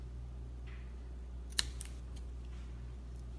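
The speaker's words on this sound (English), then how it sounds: "traditionally you just take the scissors and you cut really close" Scissors snip a bracelet cord close to the knot: one sharp, close cut followed by a fainter second snip over a quiet room hum.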